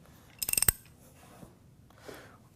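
A rapid burst of about six sharp ratcheting clicks comes close up as jacking bolts are tightened while the shaft of a Gorman Rupp Super T10 pump is rotated, followed by quieter faint mechanical shuffling.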